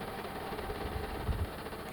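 A sewing machine stitches a decorative design on a salwar hem, its motor giving a steady, even, close hum with a slight low rumble throughout.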